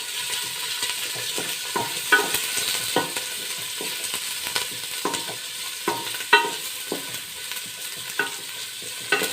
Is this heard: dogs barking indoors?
no